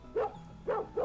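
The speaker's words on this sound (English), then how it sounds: "Woof woof woof." A dog barks three times in the video game Xuan Yuan Sword 3, short mid-pitched woofs, fairly quiet and close, in an even rhythm.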